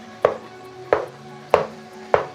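A spoon or spatula strikes a cooking pot four times at an even, slow pace while ground beef is broken apart for a meaty chili, each knock sharp and close with quiet in between.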